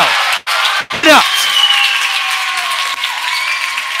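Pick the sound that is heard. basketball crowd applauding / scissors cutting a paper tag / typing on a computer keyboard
basketball crowd applauding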